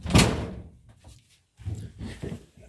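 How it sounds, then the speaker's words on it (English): A single loud thud of a door being shut indoors right at the start, followed by quieter shuffling and movement sounds. "Let me shut the door."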